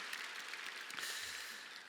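Church congregation applauding during an early-morning New Year revival service, a soft, dense patter of many hands that stays even and faint throughout.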